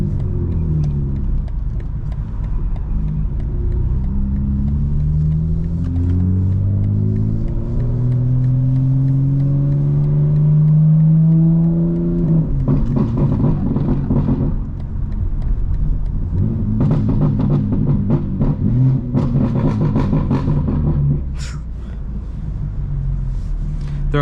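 A 900hp 2025 BMW M4 Competition xDrive roars from inside the cabin, its engine revving loud with rising and falling pitch sweeps, then rumbling through further bursts of acceleration; a voice speaks briefly.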